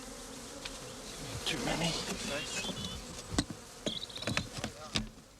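Honeybees buzz close by in several overlapping drones that rise and fall, with brief louder passes and a short spoken remark near the end.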